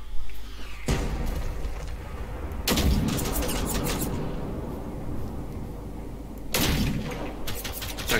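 Bursts of enemy gunfire in the video game Generation Zero, with loud broadband volleys around one, three and seven seconds over a steady rumbling background, close and harsh, with no talk.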